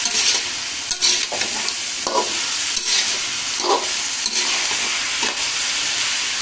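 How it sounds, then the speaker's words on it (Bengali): Rice and potatoes fry together in a pan while being stirred, giving a steady, close sizzle with repeated scraping and stirring strokes throughout. "এবার আবার আলু, চাল সব কিছু ভাজবো একসাথে"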